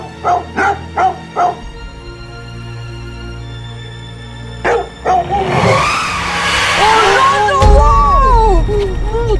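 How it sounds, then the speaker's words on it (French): A toy or cartoon dog barks in a quick run of four sharp yaps, then a couple more, over a bright musical backdrop, followed by a dense burst of sweeping, warbling effects. "Le chien il aboie"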